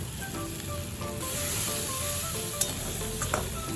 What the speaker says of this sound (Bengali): আলু সয়াবিন সব এবার মশলার সাথে ভালো করে মিশিয়ে নিচ্ছি।